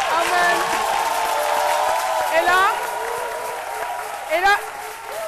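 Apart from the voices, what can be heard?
studio audience applause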